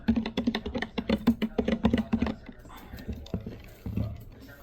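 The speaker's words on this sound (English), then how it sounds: "So you typing all that in now," Rapid clicking keystrokes on a computer keyboard rattle in quick bursts, close by, then thin out as a voice talks quietly underneath.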